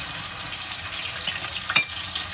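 Food fries in a pan with a steady close sizzle and crackle, one brief sharper spatter standing out near the end.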